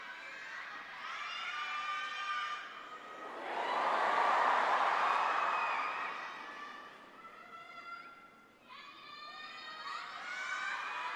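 Fans cheer and scream at a concert, a bright crowd roar that swells loudest in the middle and then eases, with high shouting voices rising in and out around it.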